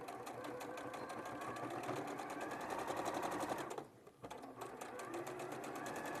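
A domestic sewing machine stitches fabric in a fast, even mechanical whirr of rapid needle strokes, close up, pausing briefly midway before running on again.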